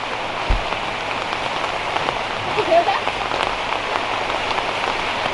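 Steady rain pours down outdoors where a street vendor sells grilled chicken, a dense, even hiss of drops with a single low thump early on and faint voices underneath.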